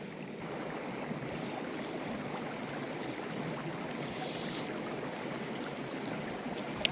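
Mountain stream in the Uinta Mountains flowing steadily as a continuous broadband rush of water, close by and even in level for the whole stretch, with no voices.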